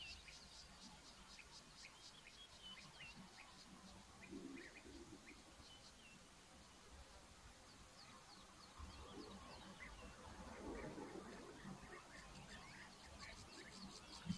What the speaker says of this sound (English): I'm hearing a lark of some sort